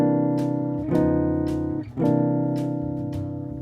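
Jazz guitar comping, sustained chord shapes sliding chromatically up and down. The ringing chords are strummed a few times with brief shifts between them, close and steady, and no one speaks.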